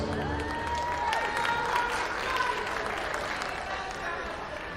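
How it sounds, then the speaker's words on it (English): Applause from the crowd at a college basketball tournament ceremony, a continuous wash of clapping heard from some distance at fairly low level, with faint cheering mixed in. "Let's give everyone a round of applause."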